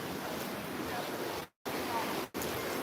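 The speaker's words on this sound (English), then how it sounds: "It's decent waves today. It looks like 2-footers, nothing too intense." Small two-foot waves breaking at a San Diego beach, a steady broadband wash of surf with wind noise, briefly cutting out twice.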